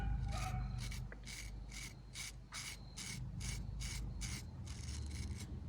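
A Condor Swamp Romper knife edge being sharpened: about ten steady, evenly spaced rasping strokes, close and fairly loud, with no talking.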